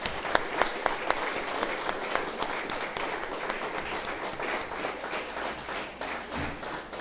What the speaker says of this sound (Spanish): que se ponga de pie y le demos un aplauso a él, merecidamente